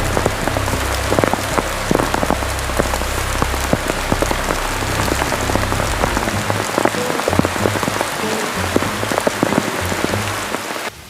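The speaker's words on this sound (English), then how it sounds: "We were all huddled together under our beautiful tarp, but freezing in the rain." Heavy rain drums steadily on a tarp at night at a Survivor camp, a dense, loud patter of countless drops with no pauses for the whole stretch.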